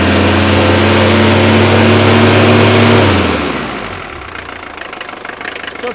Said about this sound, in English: Now I'll bring it off idle and you'll hear it rev up